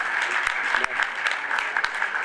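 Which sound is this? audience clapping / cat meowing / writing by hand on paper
audience clapping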